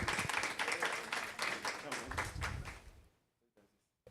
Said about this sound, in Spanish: Un aplauso para don Hugo por su participación.